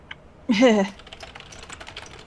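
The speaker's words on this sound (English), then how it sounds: "Sorry, typing feverishly." Fast, steady clicking of keys on a computer keyboard runs for over a second, starting just after a short voiced sound.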